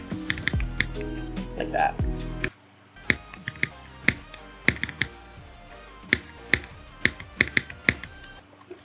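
Sharp keyboard clicks tap out an uneven rhythm during an extreme demon level of a rhythm platform game, close and crisp over the game's music, with a brief spoken remark near the start.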